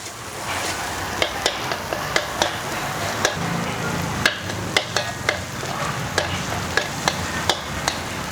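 Vegetarian curry paste for a stir-fried bean dish, stir-frying in a pan over moderate heat, a continuous sizzle punctuated by regular sharp clicks and scrapes of the spatula against the pan, close and steady.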